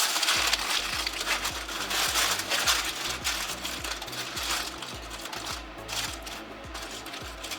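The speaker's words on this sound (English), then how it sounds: "I'm going to take some foil and tightly wrap it" Aluminum foil is pressed and wrapped tightly over a baking dish of stuffed bell peppers and rice, giving a continuous close crinkling and crushing over a low, steady mechanical hum.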